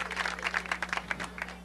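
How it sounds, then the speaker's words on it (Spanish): Applause from a crowd of families at an outdoor Venezuelan housing program event in 2012: dense, steady clapping at moderate distance, with a constant low electrical hum beneath. "Un aplauso también desde aquí para allá, para el conjunto, para todo ese grupo de familias"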